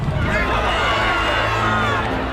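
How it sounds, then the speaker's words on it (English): A large crowd at a horse race roars and cheers in a steady, loud wash of shouting and babble that carries on without a break. "You can hear the crowd roaring them on their way as they come to the water"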